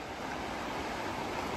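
A flooded creek running high after drought rushes steadily, a continuous broadband wash of water at moderate, even volume with no voices.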